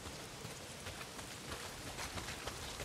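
Heavy rain pours down in Days Gone, a dense, constant hiss of drops beating on surfaces with no letup and no voices.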